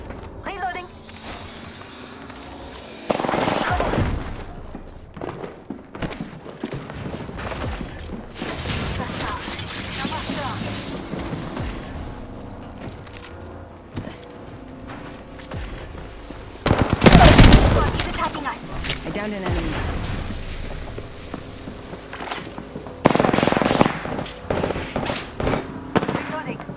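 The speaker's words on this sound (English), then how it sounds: "Firing a smart bullet." Gunfire from the Apex Legends battle royale game, with bursts of shots, smart-bullet fire and sharp impacts scattered across a busy firefight, mixed with game voice lines and mechanical clatter.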